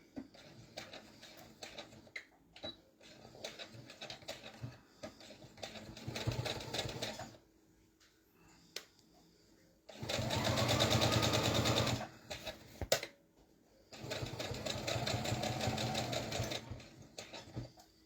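A home sewing machine stitching a pillowcase through layers of fabric: a soft whirring clatter in several runs of a few seconds each, the last two longer and louder, separated by short pauses.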